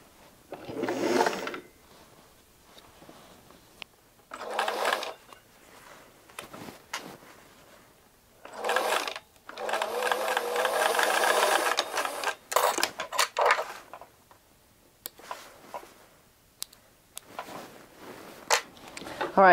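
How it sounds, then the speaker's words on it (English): A sewing machine runs in short bursts of a few stitches at a time, stitching the waist seam of a pair of pants during an alteration, with pauses between runs and a person talking in between. "Sometimes I just like to sew with this gauge in my hand."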